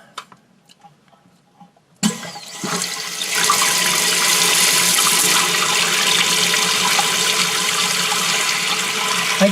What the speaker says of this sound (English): We'll turn the water back on.